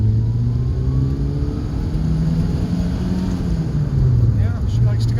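A loud X1/9 car engine drones up close, its pitch climbing steadily, dipping briefly near the end, then rising again as the vehicle accelerates.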